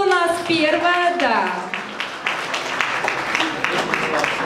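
A voice speaks briefly at a wedding registration ceremony, then guests break into loud, dense applause that carries on steadily to the end.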